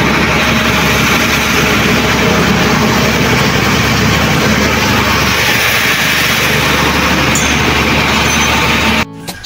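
A motorcycle engine runs while riding, giving a continuous loud roaring drone mixed with rushing wind noise, steady throughout before cutting off abruptly at the very end.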